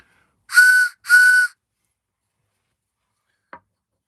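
Two short, breathy blasts on a carved wooden whistle, close together, about half a second each, then silence and a faint click near the end.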